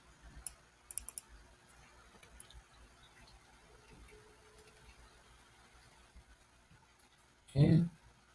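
A computer mouse clicks quietly while text is added in the CapCut editor, a quick cluster of sharp clicks early on and another pair a little later, with a soft room hush and a louder thump near the end.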